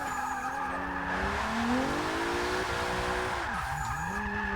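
An all-wheel-drive Ford Fiesta in Forza Motorsport 6 slides under the handbrake, its tires squealing in long wavering screeches over a continuous revving engine drone, loud and close throughout.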